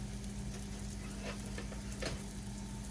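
Quiet, steady sizzling of squash frying in a pan, with faint scraping from stirring; no talking.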